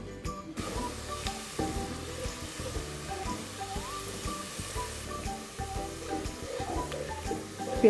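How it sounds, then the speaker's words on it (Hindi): Finely chopped onions frying in hot ghee in a pot crackle with a soft, continuous sizzle and faint popping, steady and close throughout. "घी गरम होने पर इसमें 1 से 2 अदद बारीक कटी हुई प्याज शामिल करें और उसे ब्राउन होने दें"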